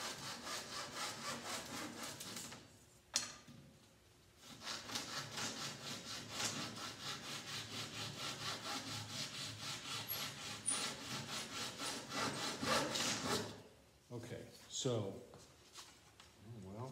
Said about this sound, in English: I'm gonna cut off a couple of pieces and just go play with them.